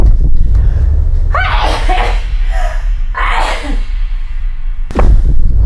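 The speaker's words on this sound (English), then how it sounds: "I'm gonna sneeze, hold please" A woman sneezes twice in close succession, loud and close with sharp breathy bursts, followed by a quick intake of breath.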